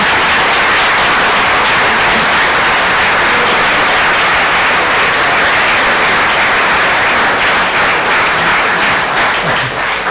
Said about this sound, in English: folks, it's time to clap now.